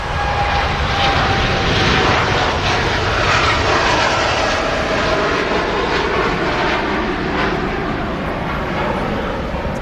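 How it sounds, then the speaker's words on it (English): Etihad Boeing 787 Dreamliner jet taking off at Manchester Airport, a loud, steady engine roar with a sustained rumble and faint whine, heard from nearby on the ground. "Textbook takeoff from the Etihad there"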